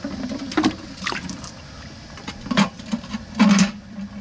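Oregon coast clams are dropped into cool water, making several short, close splashes and sloshes at irregular intervals, with quieter water movement between them and no talk.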